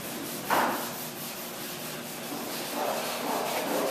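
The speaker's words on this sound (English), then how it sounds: "as John sands away after 13 coats on the 1946 Brightside U22" Sandpaper rasps steadily over the varnished wooden hull of a 1946 Brightside U22 boat, stripping back 13 coats in a continuous close scrubbing with slight strokes swelling and fading.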